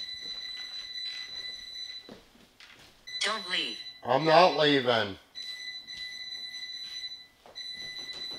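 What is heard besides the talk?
alarm going off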